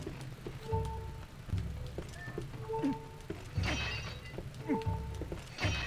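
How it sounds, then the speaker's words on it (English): Clay pots shattering one after another in the Twilight Princess HD video game, several sharp breaking crashes spaced across the stretch over steady game background sound. "Smashing pots like I'm actually supposed to get hearts out of this."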